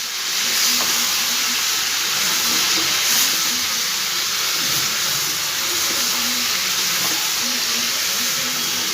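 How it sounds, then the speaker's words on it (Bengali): Spices and tomato paste sizzle and hiss steadily as they are stirred in a frying pan, a continuous close, even frying noise with faint scraping and no talking. "এবার একটু ভালো করে মশলাগুলো নাড়াচাড়া করে নেব"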